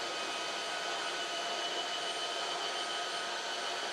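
A Tineco S7 Pro or Dyson wet dry vacuum cleaner running steadily, a loud, continuous broadband whoosh and whine with no breaks.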